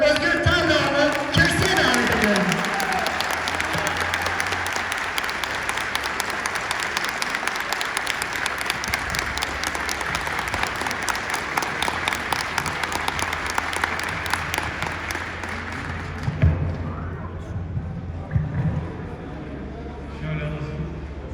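Sustained crowd applause fills a hall at an İYİ Party provincial meeting in Isparta, dense and steady for about sixteen seconds before thinning into scattered claps, with a voice speaking over the tail end.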